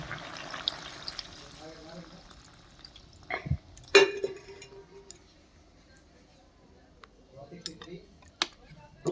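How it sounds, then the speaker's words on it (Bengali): Water poured into a pot of cooked chicken makes a splashing pour early on, followed by scattered clinks, drips and knocks against the pot, with no speech over it. "এই যে জলটা দিয়ে দিচ্ছি"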